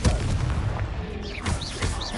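Confringo fire-blast spell in Hogwarts Legacy, a short run of booming impacts over a rumbling roar with a few whooshing magical flourishes, close and loud.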